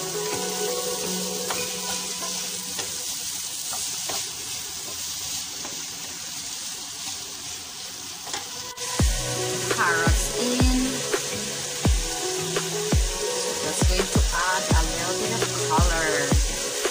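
Potatoes added to a hot pan, a steady sizzling hiss that grows busier as they go in, with scattered clinks and knocks of utensils, close by.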